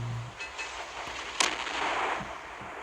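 Naval cruiser guns firing shells in the Naval Creed naval combat video game, a few booming reports with one sharp, loud blast in the middle over a steady rumbling background.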